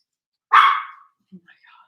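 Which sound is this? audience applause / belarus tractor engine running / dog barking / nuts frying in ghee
dog barking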